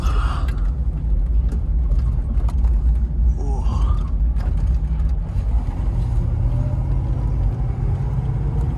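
A 1995 Range Rover Classic long-wheelbase engine while driving, a steady, loud low rumble throughout with faint mechanical creaks and rattles riding on top.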